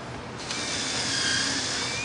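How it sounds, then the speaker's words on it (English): A high-pitched power drill runs continuously at close range, pre-drilling holes in a river pour table form, its whine rising slightly as it bores in. "All I'm doing is pre-drilling holes"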